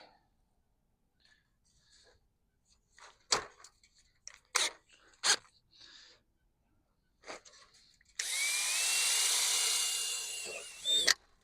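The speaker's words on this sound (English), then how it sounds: "It's just fiberglass, so it drills real easy" A few sharp knocks and taps come first, then a power drill whirs steadily through fiberglass for about three seconds, close and loud, before winding down.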